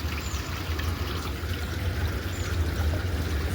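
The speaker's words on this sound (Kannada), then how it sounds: "ನೀರು ಔಟ್ ಆಯ್ತು." Water pours steadily out of a sump during cleaning, a continuous rushing flow with a broad, even wash of noise, fairly close and without pause, no voices over it.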